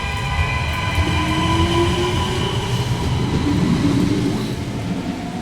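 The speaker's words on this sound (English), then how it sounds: "Goodbye, little train." A small train pulling away from a station in a quiet Portuguese town, its steady rumble and rolling wheels loud and close, with a thin high squeal of wheels running over the rumble throughout.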